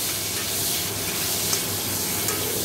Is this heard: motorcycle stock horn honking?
no